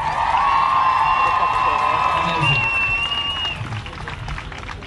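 Crowd at an Olympic torch relay in Sunderland cheers and applauds loudly and continuously, with whistles and whoops rising over the roar while a voice speaks briefly on top.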